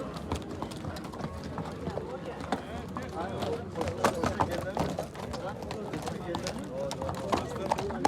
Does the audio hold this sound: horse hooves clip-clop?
yes